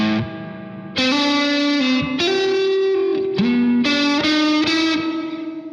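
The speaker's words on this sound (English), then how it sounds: "the drip reverb has sort of a slapback delay sort of sound in it almost" Electric guitar tune played through a Drip spring reverb pedal, clean sustained notes and chords with a springy, slapback-like echo tail, loud and alone with no talking.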